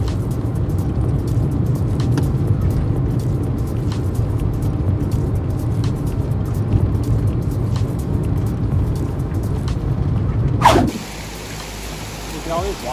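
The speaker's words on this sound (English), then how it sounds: "there's a lot of cars passing by" Cars on the Road to Hana pass close by one after another, a continuous hiss of tyres and engines with a loud swoosh near the end before the traffic noise drops away, with people talking faintly.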